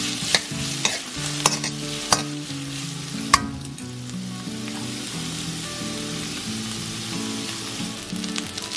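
Onions frying and sizzling in a pan for egg roll in a bowl, a steady sizzle throughout with several sharp clacks and scrapes of stirring near the start.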